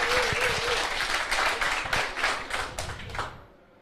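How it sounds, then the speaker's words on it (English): A modest audience at a crypto meetup applauds a presenter after a smart-contracts talk, a close, fairly loud burst of clapping with some distinct individual claps that tapers off quickly into quiet. "So please give him a warm applause."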